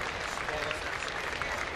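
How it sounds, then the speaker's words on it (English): Baseball stadium crowd applauding a fan struck by a foul ball at a Tampa Bay versus Minnesota game, a steady, fairly distant wash of clapping that holds evenly throughout. "The round of applause you're hearing is for the fan who was hit by the foul ball"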